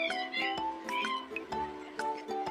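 A cat meows repeatedly in a short series of bright, close cries with rising and falling pitch, alongside a childlike sing-song voice that mimics the meowing in a nursery alphabet lesson.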